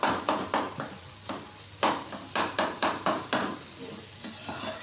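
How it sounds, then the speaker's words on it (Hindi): A spoon mashes and presses a potato and egg tikki mixture on a hot griddle, making rhythmic scraping, tapping strokes about twice a second over a soft steady sizzle, close and fairly loud. "आप जब तवे पे बना रहे होते हैं इसको तो इसी तरह से इसको आप पीस रहे होते हैं चम्मच के साथ"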